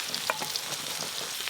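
Giant freshwater prawns frying in foaming oil give a close, continuous crackling sizzle with small pops, brief and steady with no voices.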